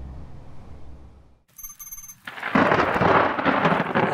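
Thunder from an intense lightning storm over Kansas. A quiet rumble fades, then a brief high ringing tone sounds. A loud, crackling roll of thunder follows and booms on heavily to the end.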